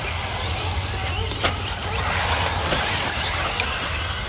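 Tekno EB48 RC cars race and drift through a hairpin corner on a flooded track at the Quebec Classic, giving a steady, fairly loud blend of electric motor whine and tire hiss with a brief sharper burst partway through.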